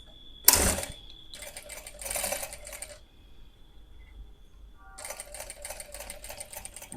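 A sewing machine stitches the leg seam of a kurti in three bursts of rapid, even whirring clatter, separated by quiet pauses, after a single sharp click near the start.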